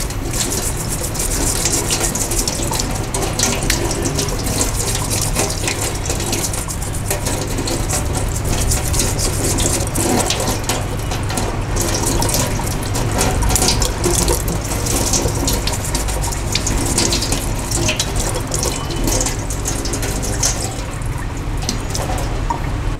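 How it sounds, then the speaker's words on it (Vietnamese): Ginger root scrubbed with a brush under a running tap, a continuous close rush of water with brushing and splashing throughout, no voices. "rửa sạch gừng nhé"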